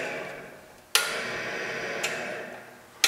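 A line burner machine switched on and idling in neutral, a steady motor whine with sharp clicks as it kicks in and again near the end, close and fairly loud, without talk.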